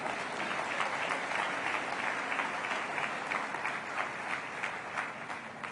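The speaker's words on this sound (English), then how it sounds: "How about a round of applause for all of them?" Audience applause fills a Florida event hall where Ron DeSantis is speaking, a dense, even wash of many hands clapping that holds steady and loud throughout with no talk over it.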